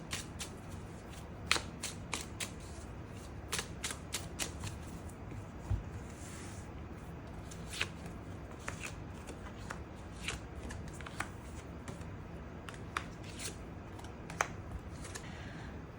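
Tarot cards are shuffled continuously for an extra draw, a steady soft rustle broken by frequent crisp snaps and riffles, close and fairly quiet, with no voices.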